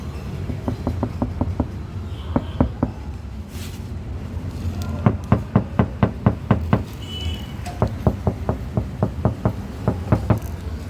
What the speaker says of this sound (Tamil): நான் டோரில் நாக் பண்ணி காமிக்கிறேன்.